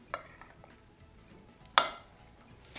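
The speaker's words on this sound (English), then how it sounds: "All we need to do is mix this together." Bale chaat ingredients tossed together in a bowl just after the wet components are added: two sharp utensil clinks against the bowl, one early and one louder midway, with soft rustling and scraping in between and no talking.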